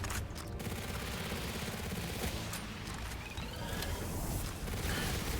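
Rapid SMG fire in the game Palworld, a dense continuous rattle of shots with mechanical clatter, loud and close throughout with no talking.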